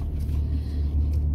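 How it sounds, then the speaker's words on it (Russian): A car rolls past on a street with a steady low rumble. It is fairly close and continuous, and no one speaks over it. "Там машина едет"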